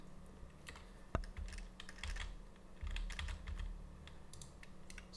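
Computer keyboard keys pressed in a quick scattered run of light clicks, one sharper tap near the start, close and alone with no talk.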